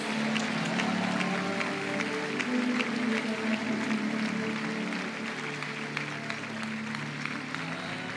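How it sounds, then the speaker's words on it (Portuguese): Church congregation at an evangelical miracle crusade applauding, a sustained dense wash of clapping from many hands, steady and fairly distant, over a low sustained tonal hum. "Aplauda bem forte, gente"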